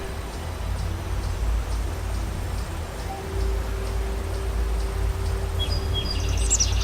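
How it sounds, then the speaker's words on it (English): Shrill bird calls and chirps from the video game Elex, faint and repeated over a steady low ambient hum, with a brighter burst of chirping near the end. "Crazy bird."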